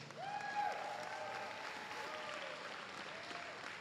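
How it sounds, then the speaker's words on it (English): A crowd claps steadily in sustained applause at an esports tournament, with a few cheers and a voice rising over the noise. "a big, big round of applause for Mysterious."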